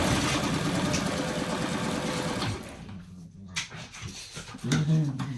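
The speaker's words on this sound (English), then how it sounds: "And the dogs are still at it." Dogs bark in the neighborhood outside a home quilting session, a burst of barks after a steady whirring sewing-machine drone that fills the opening seconds, the barks heard at a moderate distance.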